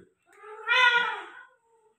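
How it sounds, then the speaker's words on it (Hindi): A cat in heat during mating gives one drawn-out, rising and falling yowl lasting about a second, close and fairly loud, with short quiet gaps before and after. "अब दोबारा बेकार बिल्ली को पकड़ के लाया हूँ वहाँ से"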